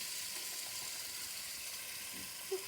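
Onions frying in avocado oil in a home kitchen give a steady, soft sizzling hiss throughout, with one faint clink near the end.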